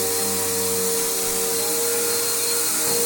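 A Bissell Powerforce bagged vacuum cleaner runs steadily on already-cleaned carpet, a loud, close, continuous whine and motor drone with no talking.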